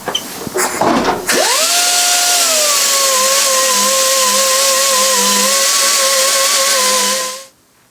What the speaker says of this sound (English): We're not cutting new threads, so don't go freaking out because we're using a drill.